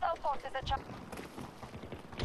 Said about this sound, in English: What footsteps am I hearing?